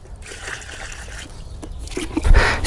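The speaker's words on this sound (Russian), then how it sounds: "И поливаем." Water poured from a bucket onto the soil around a newly planted grapevine, a steady soft splashing and trickling that swells louder near the end.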